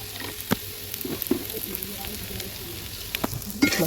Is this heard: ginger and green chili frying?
yes